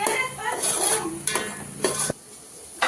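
A spoon stirs onions roasting in oil and butter in a pan for pav bhaji, giving a loud close sizzle with several scraping strokes, then a quieter pause and a final scrape.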